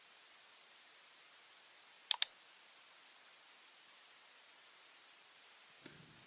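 Two quick, crisp mouse clicks confirm a dialog in RFEM 6 structural engineering software, close and isolated against faint background hiss, with a softer click near the end.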